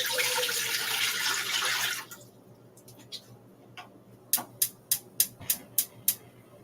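Tap water pours noisily into a measuring cup for about two seconds, then stops, followed by a series of sharp, evenly spaced taps and clinks close by.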